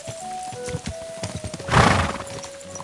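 A horse's hooves clip-clop in a quick rhythm on a video game track, with a burst of louder impact or a whinny near the middle and a steady musical tone underneath.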